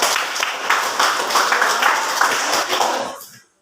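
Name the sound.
class applause for group 4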